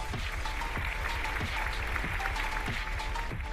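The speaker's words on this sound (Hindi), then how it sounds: "Let's give a big hand for them." Steady, dense applause from a crowd, continuous and fairly loud throughout.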